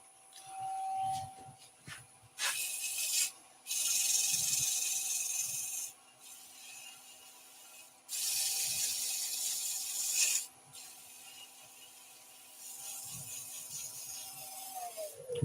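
Sandpaper rubbing on a small wooden offset pendant by hand, in several short bursts of dry, raspy scratching separated by pauses, close and fairly quiet with a faint steady whine in the background.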